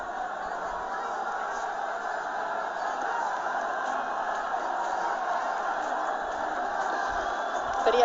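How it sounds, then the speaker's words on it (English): A cricket crowd at the 2024 T20 World Cup match between Nepal and the Netherlands keeps up a steady, distant roar of cheering and chatter that swells slightly toward the end. "This crowd's getting into it."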